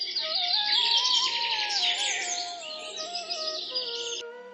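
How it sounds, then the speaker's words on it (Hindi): Forest birds chirp and whistle in a lively overlapping chorus of bright tweets and sliding melodic calls, close and clear, continuous throughout with no voices. "पक्षियों की चहचहाहट फिर से जंगल में सुनाई देने लगी थी।"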